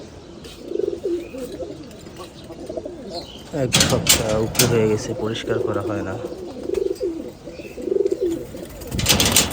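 Pigeons in a cage that has gone over a week without cleaning coo repeatedly in low, throaty bursts, close by. Someone talks over much of the cooing.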